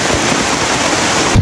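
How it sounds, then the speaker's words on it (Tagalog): Heavy rain pours down in a steady, loud, unbroken hiss for the whole moment, with no talk over it. "umuwi na kami ni Danny kasi lumalakas ng ulan."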